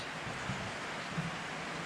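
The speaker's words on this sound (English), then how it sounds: "Supposed to be no rain today, but there is" Winter rain falling outdoors, a steady dense hiss with faint patters on surfaces, continuous and fairly soft throughout, with no one talking.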